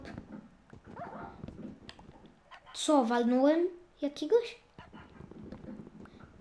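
A Minecraft wolf gives a brief whining whimper in the middle, followed by a couple of short yelps, while someone talks before and after it.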